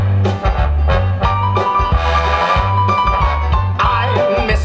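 A song is played back in its full version with vocals: a dense, loud mix of singing over steady bass and rhythmic accompaniment that runs continuously throughout.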